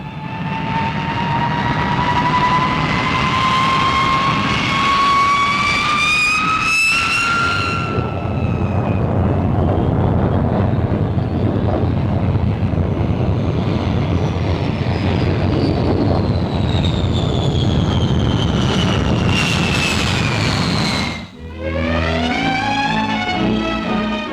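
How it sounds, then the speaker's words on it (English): Vickers Valiant four-jet RAF bomber flying in archival 1951 footage: a loud, continuous jet roar with rising and falling whine tones as the aircraft passes, sustained throughout. "the Valiant, the new 4-jet bomber"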